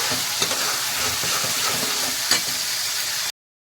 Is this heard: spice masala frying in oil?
yes